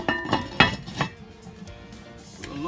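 A lid goes onto a cooking pot of boiling pork roast liquid, with a few sharp metallic clinks and clanks up close, then the softer bubbling of the pot underneath.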